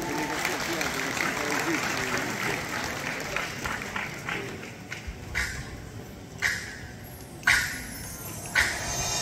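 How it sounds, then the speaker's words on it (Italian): Applause from an audience at an outdoor singing contest in Belvedere Ostrense, starting as a dense spread of clapping mixed with crowd noise and voices, then thinning into a few scattered louder claps and bursts toward the end. "Applausi, su, su, su,"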